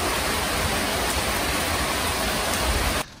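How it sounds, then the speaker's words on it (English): Heavy rain pours steadily outside as a dense, even hiss, loud and continuous with no talk, then cuts off abruptly near the end. "there's absolutely crazy rain outside right now"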